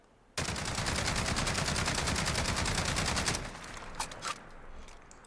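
An L85A2 rifle in Call of Duty Modern Warfare fires a sustained rapid burst of about three seconds, loud and close, then a few isolated shots and mechanical clicks follow.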